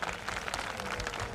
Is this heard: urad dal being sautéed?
no